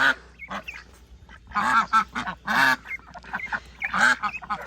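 Several ducks quack in loud, nasal bursts close by, calling in irregular clusters with short quiet gaps between them.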